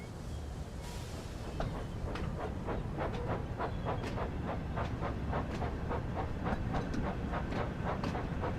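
A train in the Train Sim World 5 game, running a Blackpool special, rolls along with a steady rumble and a regular clickety-clack of wheels over rail joints, loud and continuous with no talk.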